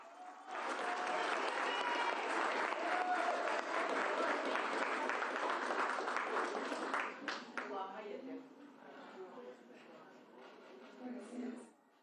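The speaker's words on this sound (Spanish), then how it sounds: "Un voto de aplauso, por favor." Audience applause fills a hall at a national gathering of the Afro-Bolivian community, loud and sustained for about seven seconds before thinning out as scattered voices and murmurs take over.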